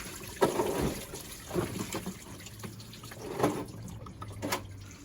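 Coolant draining from an Audi 1.8T thermostat housing into a drain pan, heard as an irregular liquid trickle with a few splashy bursts and drips, close by, with no talking.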